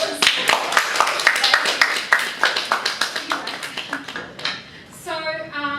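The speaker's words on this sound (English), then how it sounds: "I think they should get a special round of applause." An audience at a conference breaks into applause, a steady run of close, crisp claps that thin out toward the end as a voice starts speaking.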